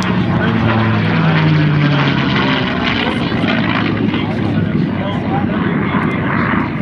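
A P-51 Mustang named Quicksilver flies aerobatic rolls and inverted passes at an airshow, its piston engine and propeller droning loudly and steadily with pitch shifts, while an announcer talks over it.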